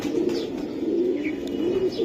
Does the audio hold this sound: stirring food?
no